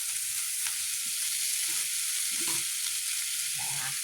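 Corned beef hash frying on low heat in a pan, a steady bright sizzle throughout with occasional soft stirring scrapes and clunks, close and continuous with no talk.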